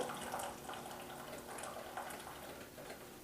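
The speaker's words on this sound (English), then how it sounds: "The pressure is still forcing the hot water out onto the coffee grounds." A Brewstation coffee maker trickles hot water onto coffee grounds, a faint, steady watery splashing and dribbling that carries on evenly with no voices over it.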